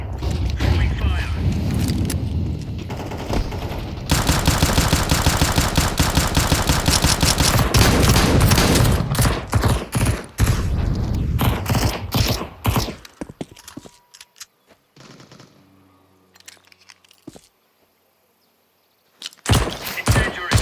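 Counter-Strike match with a grenade, flashbang and incendiary thrown: a busy stretch of loud gunfire bursts, clanks and pops, then a near-silent pause before sharp shots return, with bits of speech mixed in.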